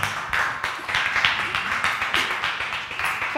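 Scattered applause from a small audience at the final speed round of a World Class Baltic competition, as preparation time ends; uneven claps with a few louder peaks over roughly three seconds, moderately close.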